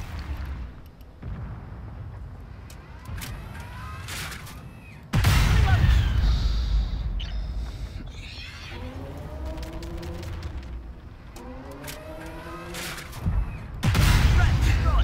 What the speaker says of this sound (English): Damn artillery.